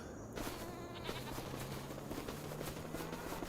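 Goats in Farming Simulator 25 bleat in a drawn-out, faint way over a steady ambient background, with insect-like buzzing mixed in.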